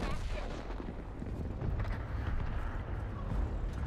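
Tank cannon fire from World of Tanks, a killing shot fired at an enemy heavy tank, booming as a dense, loud, continuous low rumble of battle noise throughout.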